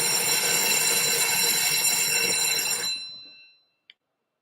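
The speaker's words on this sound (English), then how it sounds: "So the bell just ringing, but never mind." A bright, sustained metallic ringing like a bell, loud and continuous for about three seconds before cutting off, followed by a faint ding.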